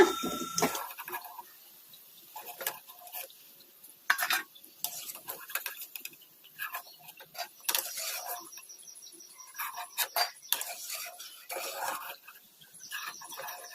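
Crispy fried onion pieces for a Gobi Manchurian-style snack are scraped and scooped from the pan onto a plate, with repeated light metallic clinks and scrapes of a spoon or ladle, close and fairly quiet, no talking.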